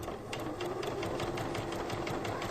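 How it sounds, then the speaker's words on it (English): A sewing machine stitches a fabric pillowcase at close range, running in steady, continuous rapid needle strokes with a busy mechanical whir throughout and no talking. "we have to sew all the way off the fabric and then back on, just barely"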